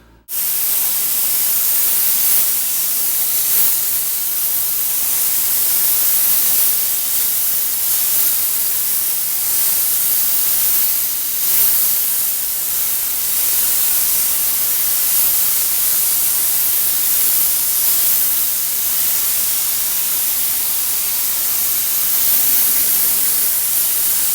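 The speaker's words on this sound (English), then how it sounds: "We've got some 3M contact cement and also a cup gun to spray that on. You have to use an air compressor to do this." Cup spray gun driven by an air compressor spraying 3M contact cement onto a Cadillac headliner, a loud, continuous close hiss that starts abruptly and holds steady with slight surges.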